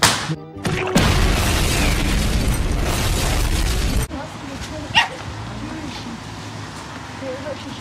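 A pitbull barks a few times amid loud rumbling noise, followed by a sharp bark or yip over quieter background sounds.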